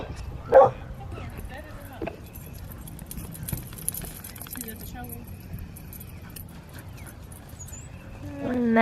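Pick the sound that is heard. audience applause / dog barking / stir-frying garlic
dog barking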